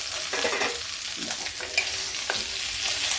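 Fried cumin is tipped into a pan of pointed gourd, setting off a close, steady sizzle with a few scrapes of the spoon over about three seconds, with no talking.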